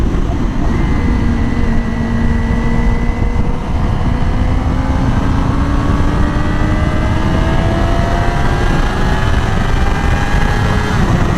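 Yamaha R6 sport motorcycle riding through a curve, a continuous loud engine drone with steadily rising pitch as it accelerates, mixed with heavy wind rush, close and constant.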